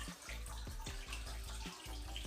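A hose fed from a thermostatic valve runs water into a 60 cm planted aquarium during tank maintenance, giving a steady splashing, bubbling rush with faint drips, close and fairly quiet, with no voices.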